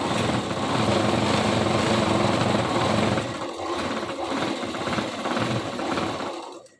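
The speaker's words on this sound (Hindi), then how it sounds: "इसी तरीके से हमें पूरे नेफे में सिलाई लगा देनी है" Sewing machine stitching along a salwar waistband, a loud, continuous close mechanical whir that steadies then slightly varies before stopping abruptly at the end.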